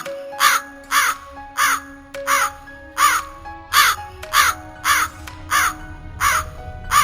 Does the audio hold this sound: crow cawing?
yes